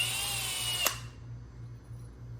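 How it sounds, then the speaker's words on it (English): A power drill cleans out a roll pin hole in the chrome vent window hardware of a 1972 GMC Jimmy, a brief high whine that spins down abruptly to a quieter low hum, close by. "so I just took a drill"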